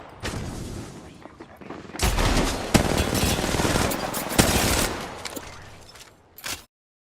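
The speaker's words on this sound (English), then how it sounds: "I don't like when 3 guys are shooting at me, man." Rapid bursts of automatic gunfire from several players in Apex Legends Mobile, dense overlapping volleys that rise sharply midway, then trail off into a few final shots before cutting to silence.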